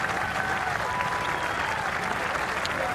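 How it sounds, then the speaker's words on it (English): Golf gallery applauding McIlroy's birdie putt on the 9th hole during the final round of The Open at Royal Liverpool; dense, steady clapping from a large crowd fills the whole stretch at an even level, with no talk over it. "Huge applause from everyone."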